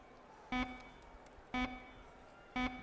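End-of-quarter buzzer in the basketball video game NBA Live 19, three short loud buzzes evenly spaced about a second apart over a quiet arena background.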